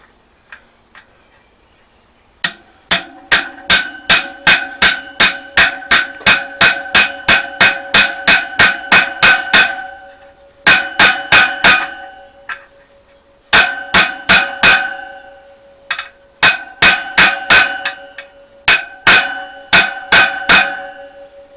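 A socket being hammered against the outer race of a bearing to drive it in, in fast rhythmic runs of sharp metallic taps with brief pauses between bursts, loud and close.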